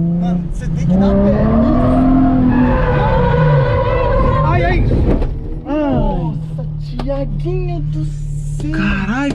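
A car on a race track skids with loud, sustained tire squeal before hitting the track wall, the engine revving hard beneath it while people shout and talk excitedly over the noise.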